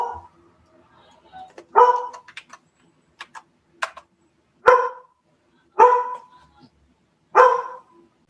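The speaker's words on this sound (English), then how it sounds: "Dog barking in the background." A dog barks in the background indoors, several sharp separate barks spaced a second or so apart, with faint clicks between them.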